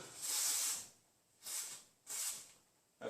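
Aerosol spray can applying a coating during collision repair on a 2013 Honda Accord, three close hissing bursts of spray, the first about a second long and the next two shorter, with quiet gaps between them.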